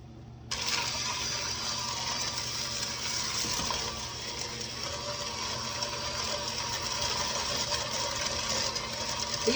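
An electric mixer churns stiff oatmeal raisin cookie dough with cereal and oats, starting abruptly and running as a steady whirring drone with a soft rhythmic churn throughout, with no talking.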